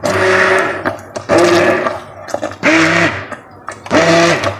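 Electric blender pureeing boiled spinach in a home kitchen, running in several loud whirring bursts separated by brief pauses, each burst rising and settling in pitch as the motor works through the greens.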